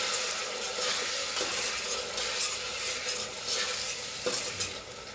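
Ground masala paste for avarekalu sambar fries and gets stirred in a pan, a steady close sizzle broken by scraping stirs and a few soft clinks, with no voices.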